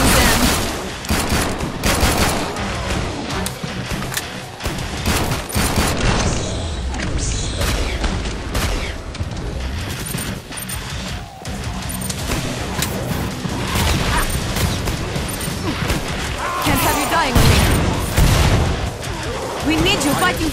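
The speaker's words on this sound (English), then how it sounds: "I like shooting them." Rapid gunfire from the video game Killing Floor 2, dense bursts of automatic shots and booming blasts that run loud and nearly continuous, with in-game voices speaking over the shooting.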